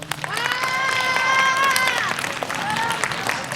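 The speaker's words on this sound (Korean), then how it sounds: "우리 민주평통 김문식 기자님한테 큰 박수 한 번 더 보내주세요" An audience at a Korean elementary school's unification talk applauds a guest reporter, a steady wash of clapping and crowd noise lasting several seconds, with bright tonal voices or cheers rising above it.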